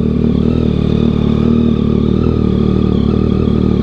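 A 2022 Yamaha XSR900 with a Kelpi Custom Moto shorty exhaust idles up close, a loud, steady, slightly uneven rumble with mechanical clatter throughout.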